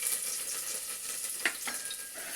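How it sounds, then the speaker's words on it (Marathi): Crushed garlic sizzling in hot oil inside a heated pressure cooker, a steady crackling hiss with a few sharp pops, close and fairly quiet. "हा लसूण टेचून फोडणीत टाकलेला आहे."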